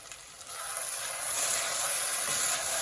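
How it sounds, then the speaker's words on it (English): Potatoes cooking in an uncovered pot give a steady soft sizzle and hiss that swells slightly as they are stirred, close and alone without talk. "cook until the potatoes are tender. Make sure to stir quite often."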